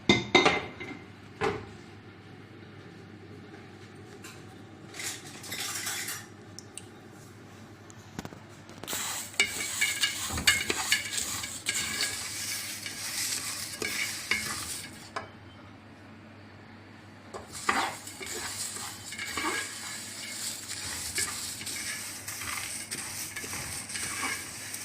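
Whole spices, including red chillies and mustard seeds, dry-roasted in a pan for chaat masala: scattered clinks and scraping clatter as they are stirred, in irregular bursts with quieter pauses between.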